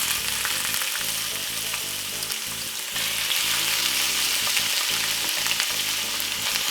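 Jamaican jerk prawns frying in a hot pan, a dense, continuous crackling sizzle with bright spitting pops throughout, loud and close, swelling slightly partway through with no talking over it.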